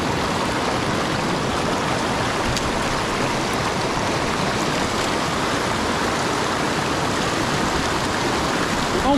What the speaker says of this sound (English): we're gonna head up this gorgeous little creek